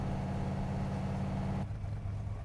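The engine of a race car idles in a steady low rumble, close and constant, and the tone shifts slightly lower partway through.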